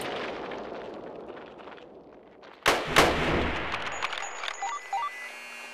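Grenade blast and gunfire in the Roblox game Hellmet, a loud booming explosion followed by a rumbling, cracking aftermath with scattered shots, over a dense battle din.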